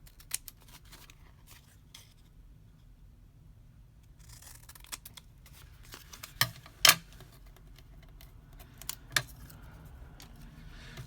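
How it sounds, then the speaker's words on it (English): Scissors trimming the corners of a cigarette card, a few sharp close snips and clicks scattered over quiet background hiss. "I'm just going to trim off those corners"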